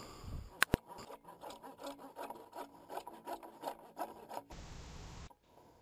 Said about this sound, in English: I'm making them about 1 1/4 to 1 1/2 inches long by making V cuts with a saw.